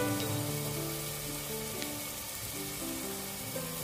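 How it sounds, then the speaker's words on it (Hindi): Onion, garlic and masala sizzle and fry steadily in a pan, a soft continuous crackle with faint clinks, fairly quiet and alone. "इन सभी चीज़ों को फ्रेंड्स हम गोल्डन ब्राउन होने तक भूनेंगे।"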